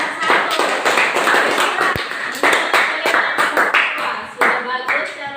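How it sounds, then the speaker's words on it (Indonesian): A class claps for a group of students in an Indonesian classroom, a dense burst of many hands filling the clip, with children's voices mixed in. "tepuk tangan untuk kelompok"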